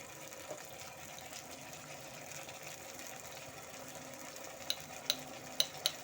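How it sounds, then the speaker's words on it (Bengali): Mustard-poppy paste cooking with sour yogurt and onions in a pan, a steady soft sizzle with stirring scrapes and a few sharp clinks near the end, no talking. "সর্ষে পোস্ত বাটা টক দই দিয়ে পেঁয়াজের সাথে ভালো মতো করে কষে নেব"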